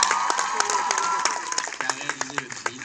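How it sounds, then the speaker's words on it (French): Audience applause at a film premiere for Aladin in Brussels, a dense wash of clapping that thins into scattered, sharper individual claps toward the end, with some crowd noise mixed in. "Vous pouvez également garder vos applaudissements pour Arthur Beck-Vinzen qui est là,"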